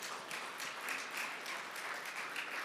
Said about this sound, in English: What about a round of applause for Nicole?